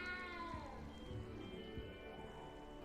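Cat meowing inside the video game Hogwarts Legacy, a run of drawn-out, wavering meows repeating close and loud over a busy game soundscape with low rumbles.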